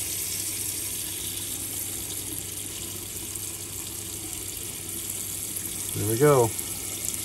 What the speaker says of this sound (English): Running rainwater.